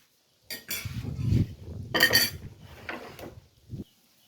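Clinks and scrapes of a utensil against a pan and plate as stir-fried eggplant with minced pork and basil is served out, in a few bursts of clatter with quiet gaps between.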